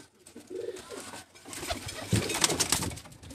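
Pet pigeons of a prized breed cooing on a rooftop loft, soft repeated throaty coos up close with faint rustling, no talk over them.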